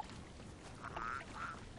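Ducks quacking in the horror video game The Cursed Forest, a couple of faint nasal quacks in the middle of a quiet ambient background with no talk.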